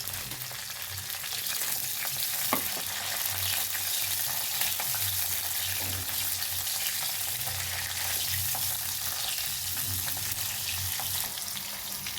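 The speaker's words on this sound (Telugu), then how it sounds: "ఇప్పుడు ఇందులో కొంచెం పచ్చిమిర్చి కలిగిన కూడా అది వేయించుకున్నాము లైట్గా" Green chillies fry lightly in a pan with a steady, close hiss and the occasional soft scrape of stirring, continuing evenly throughout.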